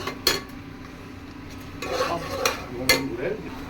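Dry lentils and rice tip into a cooking pot for bhuna khichuri, giving a few sharp rattling clatters against the metal spaced across the moment, with soft scraping and pot noise in between.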